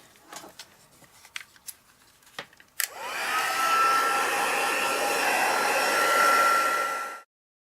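A heat embossing tool blows hot air onto cardstock, a steady loud whooshing hum running about four seconds after a few soft handling clicks, then cutting off abruptly.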